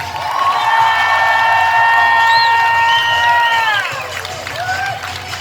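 Wedding guests cheer, whoop and applaud loudly for newly introduced bride and groom at their reception, a dense sustained crowd roar with whistles and shouts that eases slightly toward the end.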